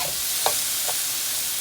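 Escovitch sauce sizzles in a little oil in a pan, a steady close hiss with a couple of soft stirring clicks and no talking.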